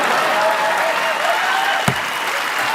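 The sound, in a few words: audience applause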